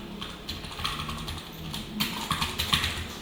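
Code being typed on a computer keyboard during a React programming lesson: a quiet, steady patter of key clicks in quick irregular bursts, with no voices.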